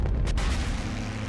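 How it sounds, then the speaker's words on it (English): Machine-gun fire from fighter planes strafing an airfield, a brief, loud, dense roar of rapid fire blended with heavy low rumble, with no clear gaps between shots. "the pilots of JG-11 begin strafing runs on the airfield"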